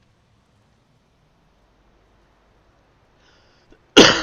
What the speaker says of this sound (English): I still got that cough